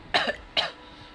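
Two close, sharp coughs from one person with a lingering cough, spaced about half a second apart, each a short harsh burst followed by quiet.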